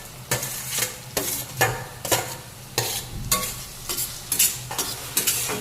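Onion and tomato frying in a pan while being stirred, a steady sizzle broken by regular scraping strokes of a spoon roughly every half second, close and fairly quiet with no talk.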